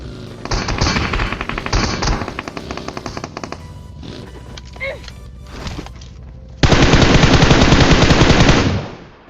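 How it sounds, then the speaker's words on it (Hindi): Gunfire in the mobile battle-royale game PUBG Mobile (BGMI): rapid automatic bursts crackle loudly in short volleys, a few scattered shots follow, then a long dense burst of sustained fire cuts off abruptly near the end. "कोई गोली चलाता है।"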